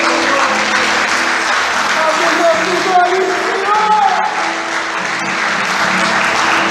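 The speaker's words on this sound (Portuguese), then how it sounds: "Você pode aplaudir ao Senhor?" A church congregation applauds during worship, a loud continuous clatter of clapping with a preacher's voice calling out over it and scattered cheers.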